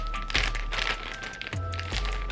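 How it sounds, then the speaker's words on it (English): A small plastic shopping bag crinkles and crackles in close handling while an unboxing is underway, giving a few sharp rustling bursts with a steady low hum behind them. "they all come in this plastic bag just like this"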